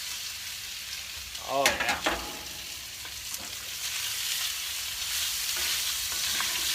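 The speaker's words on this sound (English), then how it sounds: "You should hear sizzle." Italian meatballs hit an oiled hot pan with a steady, loud frying sizzle that carries on throughout, and a voice speaks briefly early on.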